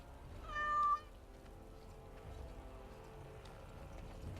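A cat meows once in the Dragon Age: Awakening video game, a short, clear, fairly loud mew lasting about half a second near the start, followed by quiet ambient game background.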